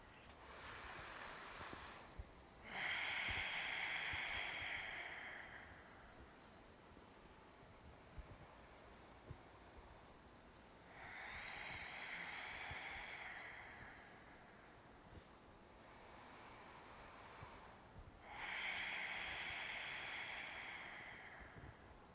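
A group of people do slow ocean-style breathing together. Long, soft, airy hisses swell and fade in three even waves with quiet gaps between them. The sound is faint and steady, and no one speaks.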